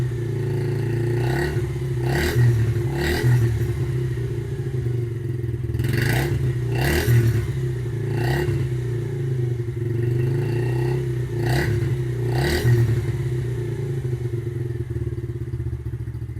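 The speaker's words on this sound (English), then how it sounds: "I got the choke off. The engine's still cold though." A cold 2013 Yamaha TTR 50cc motorcycle engine idles unevenly with the choke off, putting steadily with periodic louder thumps and clatters every second or so, close by with no talking.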